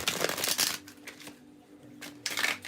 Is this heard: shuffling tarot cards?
yes